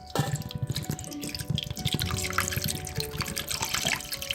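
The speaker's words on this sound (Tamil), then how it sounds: "ஸோ சிக்கன் வேக வைக்கும்போது கொஞ்சம் தண்ணி" Water is poured onto chicken pieces in a pot for boiling, a close, splashing pour with drips and trickles running throughout.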